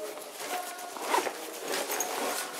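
A zipper is drawn shut on a pocket of a Wisport Sparrow 30L urban survival backpack, a close, continuous ratcheting rasp with slight changes in speed and no talking.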